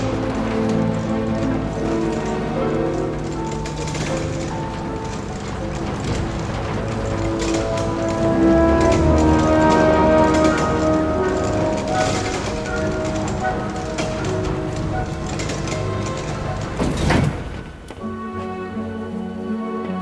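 Steady rain falls in the video game Forgotton Anne, a dense continuous patter blended with a moody musical score and game ambience, with one brief dip near the end.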